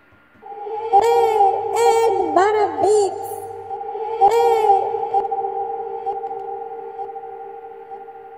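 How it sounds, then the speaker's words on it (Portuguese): A producer's voice tag is processed with reverb again: a few processed vocal bursts over a held tonal drone, followed by a long reverberant tail that slowly fades out. "Vou colocar de novo reverb."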